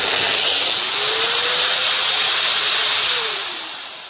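A MAXXT electric foldable drywall sander running at full speed gives a close, steady whirring motor hiss with a faint pitch that rises and sweeps, then winds down slightly toward the end; no one speaks.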